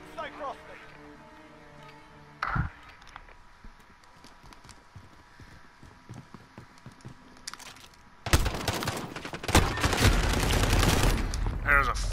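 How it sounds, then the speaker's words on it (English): Sniper rifle shots in an online 3v3 and hide-and-seek shooter match: a quiet stretch with a single sharp crack gives way to a loud, heavy burst of firing near the end, while players talk throughout. "There was a freaking sniper rifle that time."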